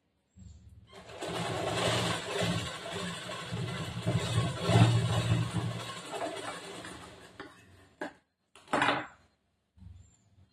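A sewing machine runs steadily for several seconds while stitching the side seam of a blouse, then stops, followed by a few short bursts of stitching and light handling knocks.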